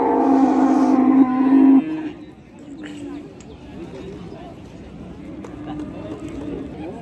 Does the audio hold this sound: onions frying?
no